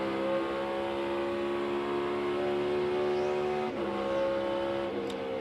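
A NASCAR stock car on a qualifying lap at the Enjoy Illinois 300 holds a steady, loud engine drone, then drops pitch sharply for a gear shift near the end before climbing again, with no talk over it.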